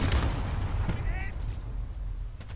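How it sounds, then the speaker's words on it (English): An explosion in Call of Duty: Modern Warfare hits loudly at the start, a booming low-heavy blast that decays over a couple of seconds with faint gunfire-like pops. "Why did I just explode?"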